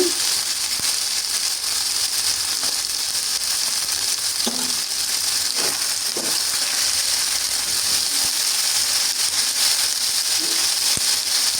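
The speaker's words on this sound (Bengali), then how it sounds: "এখন আমি দিয়ে দিচ্ছি চিকেন দিয়ে আমি একটু ভালোভাবে ভেজে নিব" Chicken pieces fry in hot oil for cabbage with new potatoes, a loud steady sizzle throughout with a few soft knocks of stirring, close and without talk.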